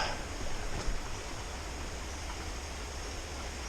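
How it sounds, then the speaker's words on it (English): Steady broadband rush of running water from a small waterfall on a canoe portage in the Boundary Waters wilderness, continuous and moderately near with no voices. "there is running water here coming down."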